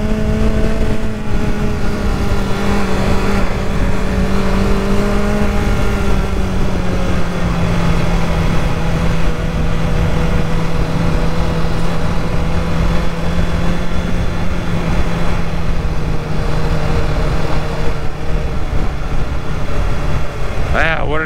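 A BMW S1000XR motorcycle engine holds a high, steady whine as it revs out in first gear, with loud wind roar throughout. The pitch dips slightly and settles, then rises briefly at the very end.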